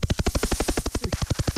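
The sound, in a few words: voice imitating a helicopter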